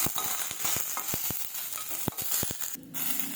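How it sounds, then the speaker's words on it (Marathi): Garlic roasting in a pan for a spring-onion greens dish gives a steady sizzle, broken by sharp scraping stirs and taps, then a quick pause before the frying resumes; nobody speaks. "याच्यामध्ये लसण टाकायचं लसण थोडंसं भाजून घ्यायचं"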